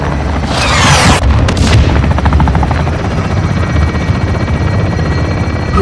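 An artillery fire strike slams a gate during a pre-assault barrage in Call of Duty: Modern Warfare II, with a loud whooshing impact and booming blast followed by sustained rumbling, helicopter-like roar filling the scene.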